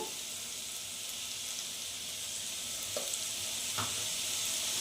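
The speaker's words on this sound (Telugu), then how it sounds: "ఈ స్పైసెస్ అన్నీ కొంచెం వేగి మంచి ఫ్లేవర్ వచ్చేదాకా ఉంచి" Spices with fresh ginger-garlic paste and garam masala fry in a pan for biryani, giving a steady, close hiss of sizzling with a couple of soft stirring clicks.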